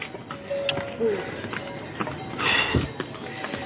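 Horses carrying pilgrims along a Himalayan mountain trail to Hemkund Sahib, hooves clip-clopping at a walking pace over rocky ground, fairly near, with scattered trail noise and no talk.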